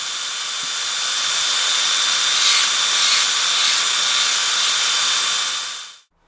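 A drill motor used as a makeshift lathe spins a bolt being shaped by a cutting tool, giving a steady, loud hissing whir with a faint high whine for about six seconds before it suddenly cuts off.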